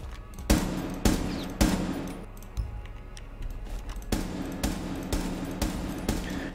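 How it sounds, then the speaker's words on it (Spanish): Rapid bursts of gunfire echo down a corridor in the video game Rainbow Six Siege, loud repeated volleys separated by short pauses, with no talking. "Vamos a disparar hacia el fondo"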